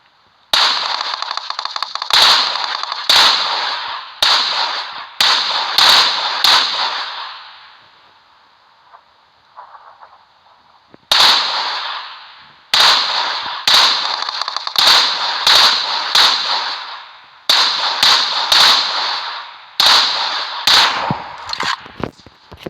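Bursts of rapid gunfire in the PUBG Mobile video game, loud sharp shots in quick volleys with brief pauses, a quieter gap mid-way before several more rapid strings of shots.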